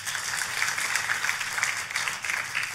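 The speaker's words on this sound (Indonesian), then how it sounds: "Boleh kasih tepuk tangan?" A church congregation at an evening prayer service applauds: a steady wash of many hands clapping at once, moderately loud and continuous, with no talk over it.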